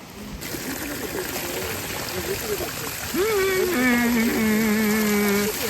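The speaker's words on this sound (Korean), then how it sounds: "약수터다 미네랄 풍부" Spring water trickles and gurgles steadily at a mineral spring in a park, a soft continuous flow heard beneath people talking and a sung or hummed voice.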